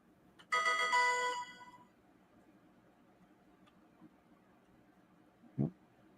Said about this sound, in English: my phone went off